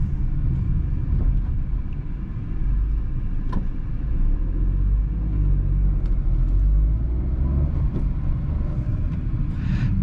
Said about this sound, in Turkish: kötü kalitesiz asfaltta yol sesi bayağı bir rahatsız edici